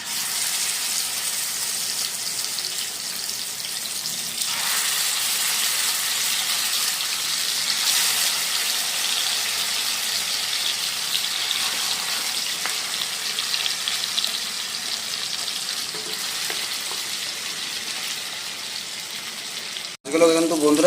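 Pieces of katla fish go one by one into oil still hot from frying onions, producing a continuous loud hiss that lasts about twenty seconds and ends with a sharp clatter.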